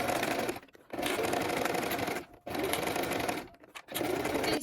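A sewing machine stitches fabric 2 mm from the edge in steady, even bursts, pausing briefly three times between runs of stitching, close and clear.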